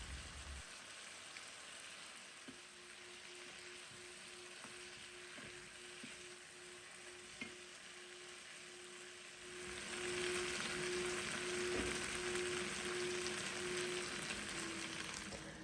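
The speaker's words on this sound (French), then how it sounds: "je fais revenir les pommes de terre que j'avais fait cuire à l'eau avec un peu de poivre." Boiled potatoes seasoned with a little pepper fry in a pan, giving a steady low sizzle throughout that grows louder and fuller in the last third, with a faint tone and a few small clicks.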